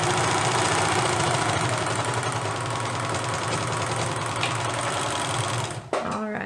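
Serger overlock machine stitching around fabric edges, a loud rapid mechanical chatter running continuously before stopping abruptly near the end with a brief clunk.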